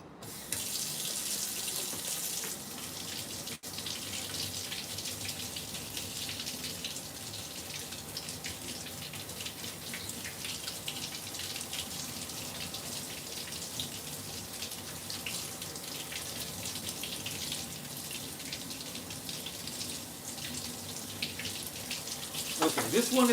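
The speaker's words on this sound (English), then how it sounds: "Going to rinse these off." Continuous hiss of a kitchen tap running as vegetables are rinsed under the stream, steady splashing that fills the moment at moderate level, with a brief click near the start and slight changes as the produce moves.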